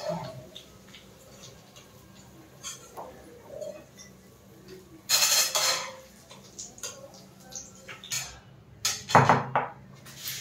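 A metal spoon clinks and scrapes against a pan while fried cashews, raisins and peanuts are lifted out of hot oil, making scattered light taps and a few louder clattering bursts near the end.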